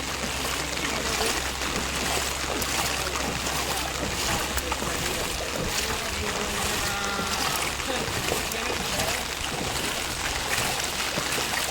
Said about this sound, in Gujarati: આજે વરસાદ ખૂબ જ છે, કોઈ નીકળવું નહીં